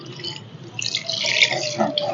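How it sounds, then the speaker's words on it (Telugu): Water is poured into a pan of village-style dried fish and egg curry, a gentle trickle that swells into a steady, fairly close splashing stream for about a second and a half. "ఇప్పుడు ఏం చేయాలంటే మనం నీళ్ళు పోసుకుందామండి"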